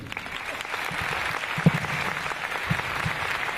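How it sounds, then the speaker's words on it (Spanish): Steady applause from an audience at an academic talk fills the whole stretch, dense and even, with a single louder clap standing out partway through. "Y pido un fuerte aplauso para dar la bienvenida a Paula Carlino."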